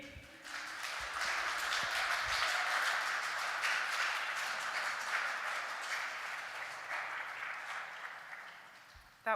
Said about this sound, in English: if you could join me in giving a long round of applause to Nadine